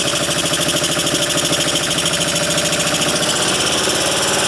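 A BMW R90S motorcycle engine, a barn-find bike, runs loud and close with a steady throbbing pulse as the throttle is worked, holding a rough, even mechanical beat throughout without any talking.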